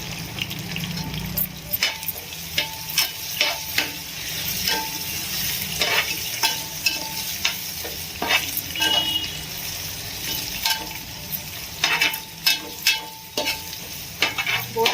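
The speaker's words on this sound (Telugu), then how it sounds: "ఆనియన్స్ మంచిగా బ్రౌన్ కలర్ వచ్చే వరకు వేగిపోయింది కదా ఇప్పుడు కొద్దిగా కొత్తిమీర పుదీనా ఫ్రెష్గా తెచ్చుకున్న వేసుకుంటే" Browned onions frying with coriander and mint for boti fry, heard as a loud, constant sizzle with repeated rhythmic scrapes and clacks of a ladle stirring in the pan, close up and with no talking.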